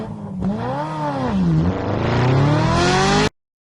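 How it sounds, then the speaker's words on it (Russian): A motorcycle engine revs up and down through rising and falling pitch sweeps, loud and close, building to a sustained high whine before cutting off sharply. "Мотоцикл."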